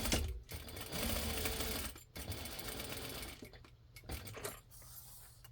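A sewing machine stitches around the edge of a cat-themed Christmas stocking, running in close, loud bursts of rapid needle chatter broken by short pauses.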